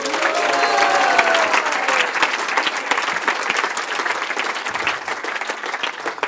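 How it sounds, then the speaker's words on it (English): A large audience at a devotional festival gathering breaks into loud, sustained applause, dense clapping filling the space and gradually thinning toward the end. "let's give a big round of applause to the cooks"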